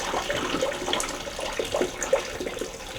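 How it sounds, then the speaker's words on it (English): Hot water from a kettle pours into a bucket nearby, a soft, splashy trickling stream with small gurgles, quiet and continuous with no talking. "I'll put my hot water in"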